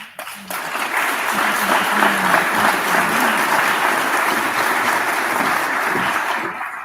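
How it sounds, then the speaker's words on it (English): Sustained applause from a graduation ceremony audience, a dense steady wash of clapping at full strength from start to finish. "thank you for clapping for her"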